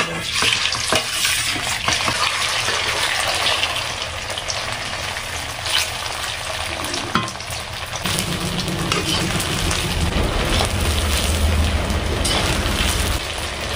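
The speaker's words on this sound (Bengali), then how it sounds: "দ্বিতীয়বার ভেজে নেব।" Steady crackling sizzle of homemade papaya paneer pieces frying in hot oil a second time, loud and continuous with a few scraping stirs, no voices.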